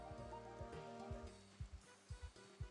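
Rain falling in a survival video game, a steady patter of drops with soft low thumps, very faint and heard alone.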